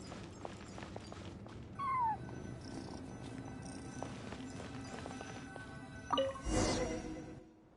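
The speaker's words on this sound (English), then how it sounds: "I followed the cat's cries to find my way out." A cat in Genshin Impact cries with a short high mewing call early on, then a louder purring rumble later, over quiet ambient game sounds.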